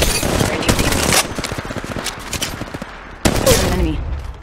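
Automatic gunfire rattles in rapid bursts during a battle royale video game match, with a long burst followed by a pause and a second sharp volley, loud and close.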